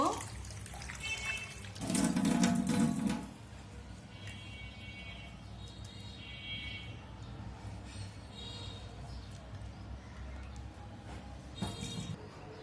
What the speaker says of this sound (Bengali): এখন খিচুড়ির জন্য চাল ডাল আমি ধুয়ে নিব